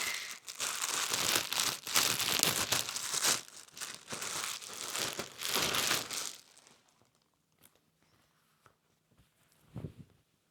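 Crinkly plastic packaging of a Christmas item is torn open and crumpled close up, a loud, continuous rustling that runs for several seconds before giving way to near silence with a few soft handling taps.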